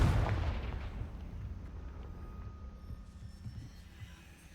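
Confringo explosive spell blast in Hogwarts Legacy, a single loud booming impact at the start that rumbles and fades away over several seconds.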